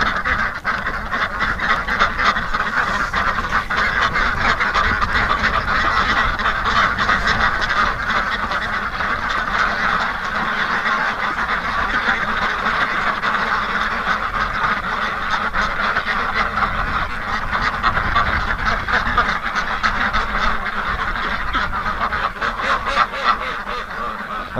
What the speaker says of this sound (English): Yes, ducks.